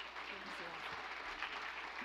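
Audience applause for Charlotte after a testimony talk, a steady wash of many hands clapping at moderate level with a voice faintly speaking underneath.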